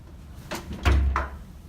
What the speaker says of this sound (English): have slamming door?